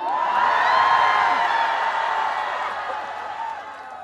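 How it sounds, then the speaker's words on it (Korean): A dense festival crowd at an outdoor fish-market celebration in Masan roars and shouts in one sustained swell, loud and near at first, then easing slightly toward the end. "함성!"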